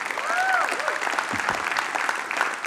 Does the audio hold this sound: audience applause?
yes